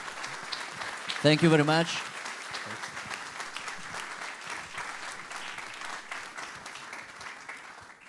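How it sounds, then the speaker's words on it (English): Audience applause after a conference talk on continuous product discovery, steady broadband clapping through the whole stretch, with a brief spoken thank-you from a man near the start. "A big applause, please."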